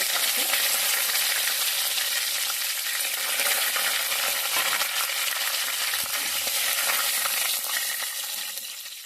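Curry leaves fry in hot oil with dried red chillies for a brinjal onion-chilli curry, giving a loud, steady, dense sizzle that crackles on without pause and fades a little at the end.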